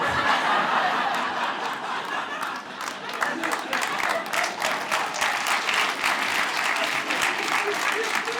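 Comedy club audience applauding after a stand-up bit, dense steady clapping from a large crowd with scattered chuckles and laughter mixed in, sustained throughout at full volume.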